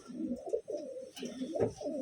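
Several domestic pigeons, including blue bar birds, coo in low, throaty rolling phrases that overlap close by, with faint rustling in between and no talking.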